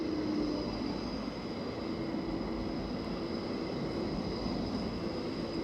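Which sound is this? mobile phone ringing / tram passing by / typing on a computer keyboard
tram passing by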